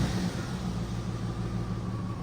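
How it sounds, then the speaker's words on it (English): A used luxury SUV with 156,000 miles cranks and starts up cold, settling into a low rumbling idle with a slight uneven miss, close and steady throughout without any talk. "Let's hear it starting now."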